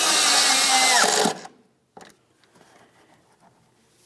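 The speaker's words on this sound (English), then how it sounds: "install your 2 8mm headed mounting screws" A power drill drives two 8mm-headed mounting screws into a Ford Flex tail lamp assembly, a loud whirring burst for over a second, then stops, followed by faint clicks and handling noises.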